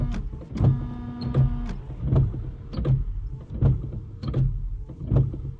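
Continental Aqua Control windshield wiper blades on a Fiat Punto sweeping back and forth, with a repeated motor whir and soft rubbery thumps in a steady rhythm of about one pass per second, close and without speech.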